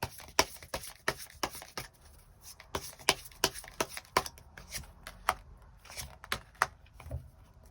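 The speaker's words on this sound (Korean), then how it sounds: "추가 카드로 이번 11월에 나에게 필요한 조언 카드 몇 장 더" Tarot cards being shuffled and drawn, a rapid run of close, crisp card flicks and taps, quiet and irregular, with no talk.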